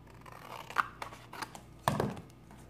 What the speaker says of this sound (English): So I'm just gonna cut this part off.